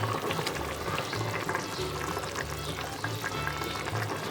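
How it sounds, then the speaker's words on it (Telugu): A pot of Nellore-style fish curry (pulusu) simmers on the stove, its bubbling and popping steady and close. No one speaks. "పులుసు తెల్లిందో లేదో ఒకసారి చూద్దాం."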